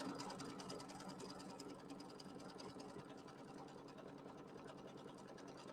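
An embroidery machine stitches a basting line around the edge of pieced fabric, a rapid, even mechanical chatter running steadily and close throughout, faint overall, with no talk.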